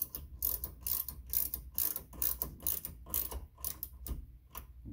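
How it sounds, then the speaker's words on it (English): Knobs are tightened by hand to snug a target pole in place on a target stand, giving a near, quiet run of rapid ratcheting clicks and mechanical ticks in irregular bursts. "Just tighten them down a little bit."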